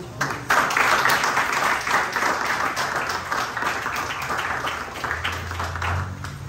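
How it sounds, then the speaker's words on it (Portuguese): Church congregation applauding during a worship service, a steady wash of clapping that fills the room throughout, with a low hum entering near the end. "Aplauda ele."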